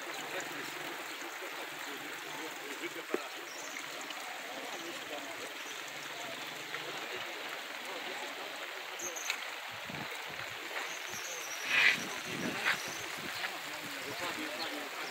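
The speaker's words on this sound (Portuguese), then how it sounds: "Olha só, pessoal, quanta água, muita água mesmo." The overflowing Camaragibe Mirim river rushes through Joaquim Gomes in Alagoas during a flood, a steady, broad wash of water that runs throughout while someone talks over it, with a few brief knocks.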